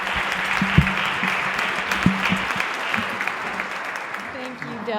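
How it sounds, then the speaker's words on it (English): An audience at a Rotary club meeting with a speech contest applauds for several seconds, a dense steady patter of many hands with a few louder nearby claps, under a speaking voice. "Let's give Laure a big round of applause."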